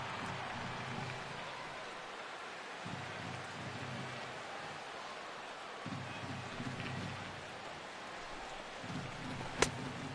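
Steady rain hisses over a ballpark in the baseball video game MLB 16, a continuous wash of falling water with low crowd murmur swelling and fading beneath it and one sharp click near the end.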